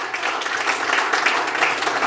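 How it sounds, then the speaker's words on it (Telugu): An audience claps loudly and steadily at a comedy show event welcoming a film hero, a dense continuous wash of applause with no voices over it. "ఒకసారి గట్టిగా క్లాప్స్"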